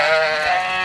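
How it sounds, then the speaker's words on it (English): A sheep from a farm flock gives one loud, close, wavering bleat that lasts the whole moment, with no other sound over it. "Sheep, sheep, sheep, sheep, sheep."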